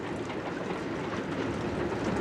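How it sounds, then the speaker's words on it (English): An old steam railway train passing at Kingswear across from Dartmouth, a steady rumbling rattle of carriages heard continuously at moderate distance with no voices. "and the old steam railway here."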